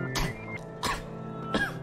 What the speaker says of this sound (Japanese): 咳込んでましゅね。